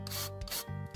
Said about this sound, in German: ich reibe gerade etwas Muskatnuss noch rein.